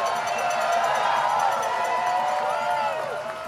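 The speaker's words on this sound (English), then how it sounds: "Let's give them a round of applause." An outdoor crowd at a nighttime protest cheers and claps together, a dense continuous wash of voices and applause that stays loud before thinning slightly at the end.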